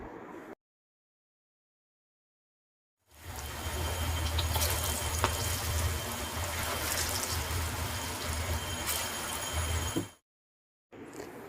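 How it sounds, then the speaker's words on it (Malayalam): Onion pakoda batter dropped into hot oil, a steady loud sizzling hiss that starts abruptly after a silent gap, holds for about seven seconds, then cuts out. "ചൂടായ എണ്ണയിലേക്ക് നമ്മൾ തയ്യാറാക്കി വെച്ചിരിക്കുന്ന ബാറ്റർ കുറേശ്ശെയായിട്ട് ഇട്ട് കൊടുക്കാം"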